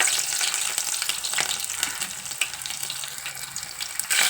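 Garlic cloves drop into hot oil in a pan for a bitter gourd curry and crackle steadily up close, with a few sharp pops and utensil taps through the sizzle.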